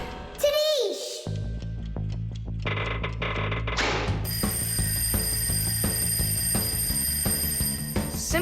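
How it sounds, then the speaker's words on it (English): A cartoon alarm clock rings in an animated kids' show, a continuous bright metallic bell ringing for several seconds after a cartoon whoosh and clanking, with a child-like voice speaking over it. "I think I can hear my alarm ringing."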